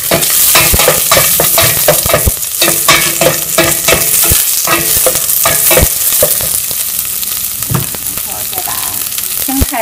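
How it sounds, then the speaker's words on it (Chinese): Chili and lemongrass stir-fried in hot oil in a pan over medium-high heat, with a steady loud sizzle and frequent scraping stir strokes throughout, no voices. "然后在锅里面倒一点油，辣椒放进去，还有柠檬草"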